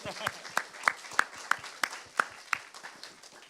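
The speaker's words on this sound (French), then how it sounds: "Oui, on peut applaudir." A church congregation claps during a service: around ten sharp, scattered hand claps spaced unevenly over a few seconds, moderately close, with a faint murmur underneath.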